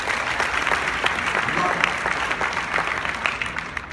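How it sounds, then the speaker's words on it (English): An audience at a real estate coaching event in Orlando, Florida breaks into steady applause, a dense wash of claps with a voice talking over it. "give a big round of applause."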